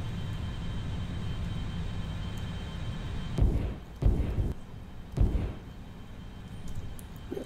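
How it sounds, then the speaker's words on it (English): Spacecraft engines at half thrust in the Orbiter 2010 simulator, a steady broadband roar with three brief louder surges partway through, with no talking. "Okay, I'm going to go to halfway on the engines now."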